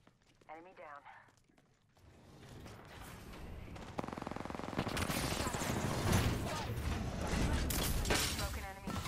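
Video game gunfire, starting after a brief spoken voice and building into sustained rapid automatic shots and impacts that stay loud to the end.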